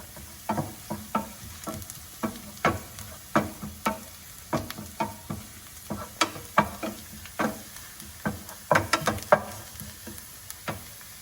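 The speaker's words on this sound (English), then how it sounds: "Now I'm going to add this crushed, the dry red chilies. Saute it for a little bit." Crushed dry red chilies saute in a pan over a quiet sizzle, with a spatula striking and scraping the pan in a run of sharp, regular taps, speeding into a quick cluster near the end.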